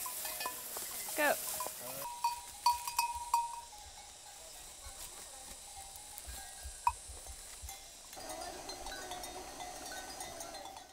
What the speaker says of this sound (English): all the cows are wearing bells, so constantly you hear ding, ding, ding, ding